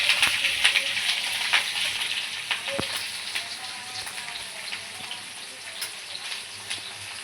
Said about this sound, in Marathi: मिरचीला पण भाजूया.